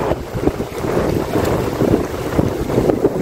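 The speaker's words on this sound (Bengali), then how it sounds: "ঢেউগুলো বিশাল বিশাল ঢেউ।" Big waves on the open water of Nikli haor, heard as a rolling, splashing wash under strong wind buffeting the microphone, as if recorded from a boat.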